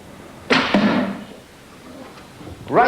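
Arrow loosed from a powerful bow punching through one wooden door and into the next, heard as a loud sharp thud followed by a second impact and brief rattle, with a faint voice near the end.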